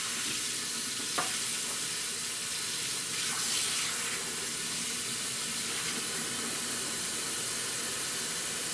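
Cool drinking water pours steadily into a primary wine fermenter with a continuous hissing splash, fairly quiet and unbroken, with a few faint knocks near the start.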